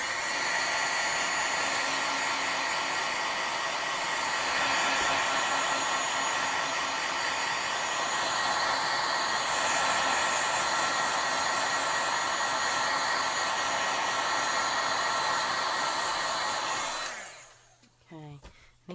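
A hair dryer blows steadily and loudly on alcohol ink spread over paper, a constant close whirring roar that runs for about seventeen seconds before it cuts off abruptly, leaving near silence with a few faint handling sounds.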